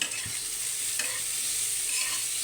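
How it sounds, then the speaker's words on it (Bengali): Potatoes and onions with turmeric and salt sizzle in a pan while a utensil stirs and scrapes, a few distinct knocks standing out over the continuous frying hiss; no talking. "আলু ভাজা হবে পেঁয়াজও ভাজা হবে"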